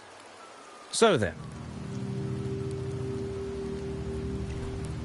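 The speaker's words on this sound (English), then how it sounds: "The rains in Septimont never seem eager to leave this season." Steady rain falls in the video game Wuthering Waves, a soft, continuous patter that fills the scene after someone briefly speaks.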